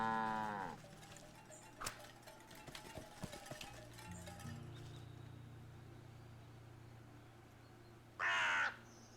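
A crow caws in the video game Wytchwood, a short rough call standing out clearly near the end over a steady low ambient drone, with a few faint clicks and game sounds earlier.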